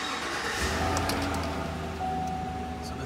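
A 2019 Chevrolet Silverado 1500 Custom Trail Boss engine starts from inside the cab and settles into a steady, low idle rumble, heard close and without talk.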